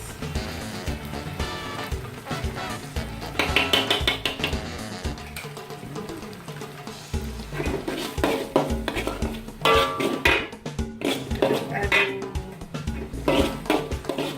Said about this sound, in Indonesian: Aduk-aduk, tumis hingga harum.